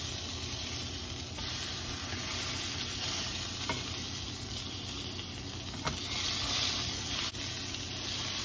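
Eggs scrambling in a frying pan at home, a steady loud sizzle with occasional scraping stirs of a utensil, no talk.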